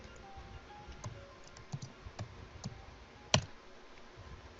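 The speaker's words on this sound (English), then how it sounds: "I want to finish typing this." Faint, irregular keystrokes on a computer keyboard, a few scattered clicks with one sharper tap near the end, heard quietly at close range with no talking.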